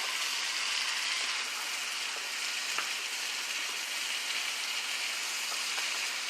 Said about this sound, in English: just kind of let it saute on medium high